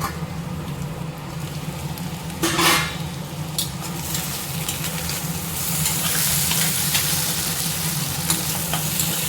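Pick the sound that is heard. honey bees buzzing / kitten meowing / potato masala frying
potato masala frying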